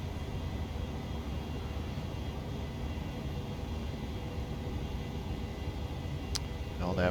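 A Boeing 737 climbs after takeoff, its engines producing a constant broadband roar and hum from within the cockpit, with a brief chirp near the end.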